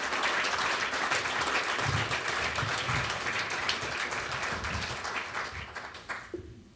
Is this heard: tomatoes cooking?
no